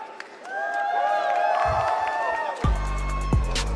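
A crowd at a BLAST Rainbow Six Siege major esports event in Atlanta roars and cheers in a sustained wash of noise, heard through the broadcast mix alongside tonal game sounds and effects, with no clear speech.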